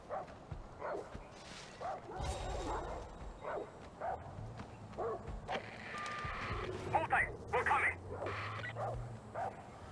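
A dog in the video game Far Cry 4 barks repeatedly in short yaps over a busy game soundscape, while people talk throughout.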